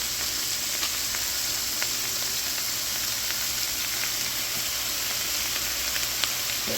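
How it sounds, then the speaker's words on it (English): Vegetables fry with butter and ginger on a hibachi griddle, a steady close sizzle with faint scattered clicks and pops, continuous and alone with no talking. "Veggies, we're going to add 2 tablespoons of butter"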